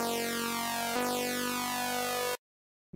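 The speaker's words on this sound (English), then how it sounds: "we get that phasing effect that is very cool." Phase Plant synth bass with a phasing effect, a dense harmonic tone whose sweeping notches curve through it, restarting once near one second, loud and alone before cutting to silence.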